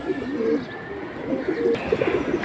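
Pigeons coo with soft, low, repeated rolling calls in a close, continuous chorus, overlapping one another against a light background hum.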